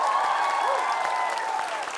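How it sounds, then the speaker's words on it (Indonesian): Studio audience on an Indonesian TV comedy show clapping in a steady, dense wash for about two seconds, fairly loud and close, with faint tonal voices or cheers threaded underneath and a slight fade near the end. "kita berikan tepuk tangan untuk lekas Lekas sembuh"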